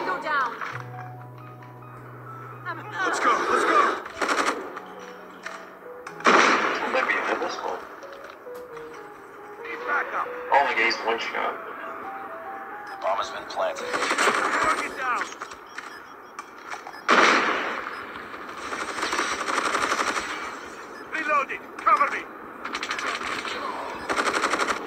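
Rapid bursts of CR-56 AMAX rifle fire in the mobile shooter Call of Duty Mobile, loud repeated volleys with short pauses, layered with game effects and tones while a player talks over the action.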